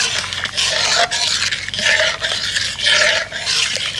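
Food colouring stirred into sugar syrup for motichoor laddu, a spoon scraping steadily around the pan in repeated rasping strokes, fairly loud and close with no voices.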